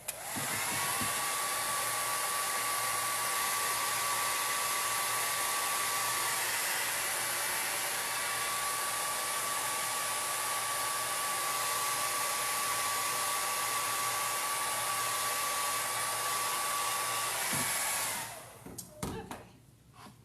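A hair dryer blows on wet acrylic paint on an abstract heart painting, a loud, close, steady whooshing drone that holds for about eighteen seconds before cutting off, followed by a few faint handling knocks.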